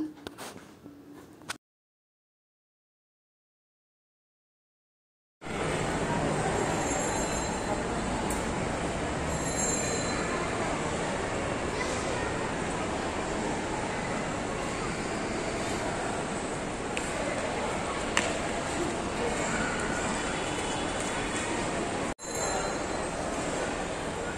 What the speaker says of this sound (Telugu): అక్కడ టాయ్ ట్రైన్ ఉంటుంది కదా బయట